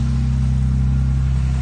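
A Jaguar's engine revving through a new stainless steel exhaust, a loud, steady low rumble held close and unbroken with no voices over it.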